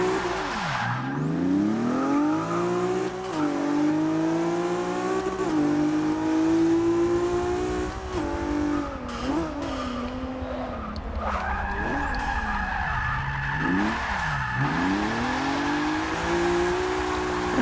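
A twin-turbo car drifting in Forza Motorsport 6, its engine revving up and down in repeated swoops while tires squeal and skid continuously, loud and close throughout.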